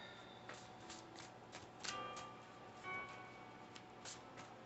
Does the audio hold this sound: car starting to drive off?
no